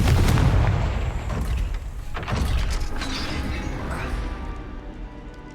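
The Confringo blasting spell in the Hogwarts Legacy video game goes off as a loud, sustained rumbling explosion with crashing debris and booming impacts that slowly fade.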